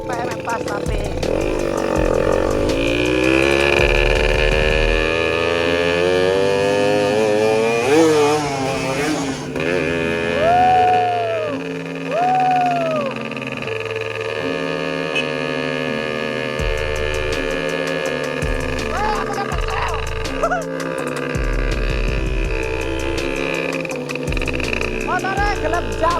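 A Fiz R motorcycle engine roars loud and close throughout a group street ride, rising and falling in pitch with rhythmic revving, while voices talk over it.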